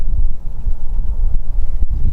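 Strong gusts buffet the microphone outdoors on a windy day, a loud, continuous low roar with brief dips, no voices.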